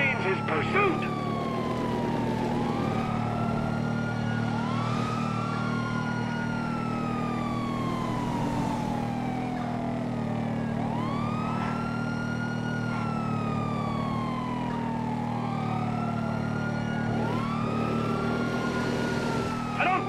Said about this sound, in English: Sirens, we got to get close.